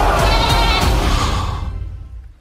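A goat in a French film trailer gives one long, loud, wavering bleat up close, quivering throughout before fading away into quiet.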